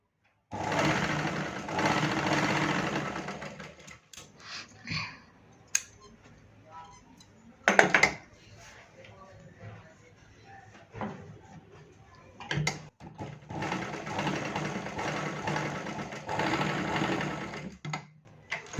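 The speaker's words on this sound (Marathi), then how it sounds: "हां, एकावर एक ठेवून शिलाई मारून घ्यायचं." An electric sewing machine stitching stacked patches for a blouse runs in two long bursts of steady whirring, close and loud, separated by quieter stretches with small clicks and handling noises, and a voice is heard only faintly.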